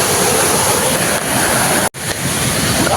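Steady broadband rush of a river flowing close by, loud and continuous, with a brief dropout near the middle and no voices.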